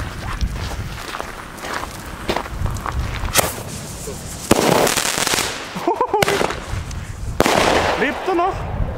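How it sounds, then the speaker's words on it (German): A five-shot firework tube fires several sharp bangs in a loose series against a noisy outdoor background, with crackles and whistling trails after the later shots; voices murmur nearby. "Dann haben wir hier endlich mal das Bombenrohr 5 Schuss"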